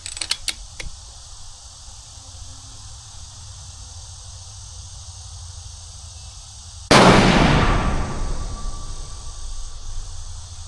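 One sharp, loud rifle shot fired at a target cracks out after a quiet stretch with a few light clicks, then its echo decays over several seconds.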